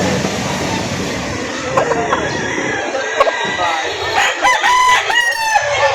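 Roosters crow amid a busy chicken market in Lipa City, Batangas, several crows rising near the end over crowd chatter and people talking.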